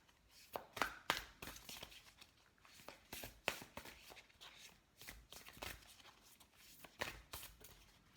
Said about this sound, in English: These are some really big cards to shuffle.